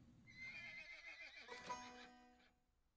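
A horse in the Cowboy Life Simulator video game gives a single clear, fairly quiet whinny lasting a couple of seconds, its pitch rising and wavering before it fades, with no talk over it.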